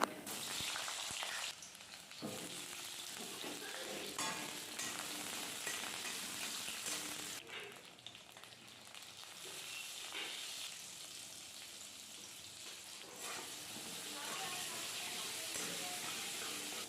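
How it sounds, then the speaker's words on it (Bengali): Pointed gourd (potol) fries in hot oil, making a continuous hissing sizzle that shifts in level as the pieces are moved, with brief quieter gaps between bursts. "এখন আমি পটলটা ভেজে নেব"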